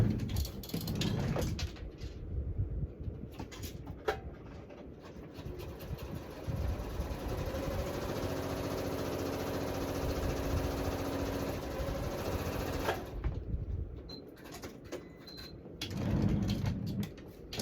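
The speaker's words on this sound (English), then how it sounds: "I'm gonna go over to my sewing machine and sew it" A sewing machine runs with a fast mechanical whir and rapid stitching clatter for several seconds, starting and stopping, with no talking.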